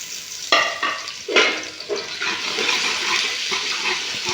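Mixed vegetables with tomatoes cooking in a hot pan at home, a loud steady sizzle and hiss with stirring scrapes and a sharp burst as food hits the oil, close and continuous without talk.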